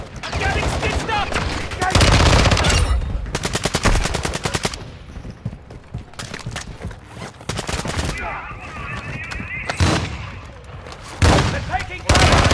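Rapid automatic gunfire in a military shooter game, bursts of machine-gun fire in fast rattling strings alongside single sharp shots and booms, loud and close, with quieter gaps between volleys.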